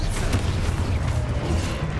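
An Expulsor spell explodes in the Hogwarts Legacy video game, giving a dense, booming rumble with crackling debris that fills the whole short stretch at steady, heavy loudness.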